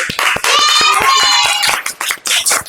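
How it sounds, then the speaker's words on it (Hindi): A classroom of children clapping for themselves in a Hindi grammar lesson, loud, fairly quick claps close by with children's voices calling out over them. "तो अब आपको समझ में आया तो सब अपने लिए तालियां बजाओ।"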